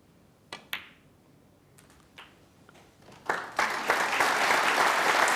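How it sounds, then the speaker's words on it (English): Snooker crowd at the World Championship applauding a 73 break, opening with a few sharp isolated claps that swell into full, sustained applause from the arena audience. "he gets the applause for 73"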